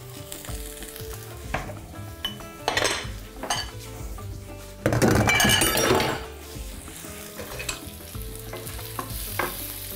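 Potatoes fry with butter in a pan, sizzling close up while a utensil stirs and scrapes against the metal, with clinks and a louder burst of crackling midway.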